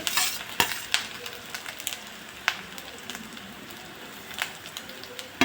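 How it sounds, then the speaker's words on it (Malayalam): Grated coconut with garlic and ginger roasts in a pan as a spatula scrapes and stirs it in repeated sharp strokes over a soft, steady sizzle. "നന്നായിട്ടൊന്ന് വറുത്തെടുക്കാം"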